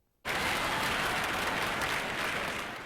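Over 200 students cheering and applauding for the Aggies at the Spectrum during an NCAA tournament first-round game, a dense roar of clapping and crowd noise that bursts in suddenly and holds loud and steady.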